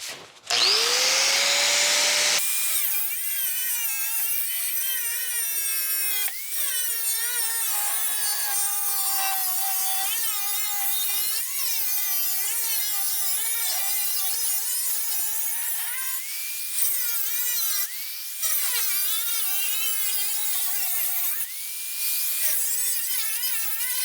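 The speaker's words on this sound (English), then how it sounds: "let's make our cut and remove this bottom piece" A power cutting tool slices through the lower steel skin of a door on a 1962 Cadillac Series 60 Fleetwood. The whine is close, loud and continuous, with a few brief pauses and changes in pitch, and there is no talking.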